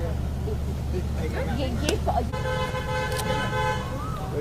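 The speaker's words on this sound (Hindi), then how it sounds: "गाड़ी आ रही है" A car nears along a road during a Mumbai celebrity media appearance, giving a couple of short horn toots over a steady traffic hum while people talk close by.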